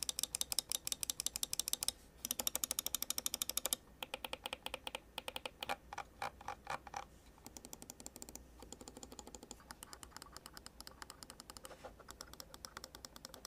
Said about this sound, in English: here's a quick typing test for y'all to hear exactly what it sounds like